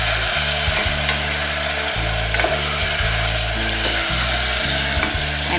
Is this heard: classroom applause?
no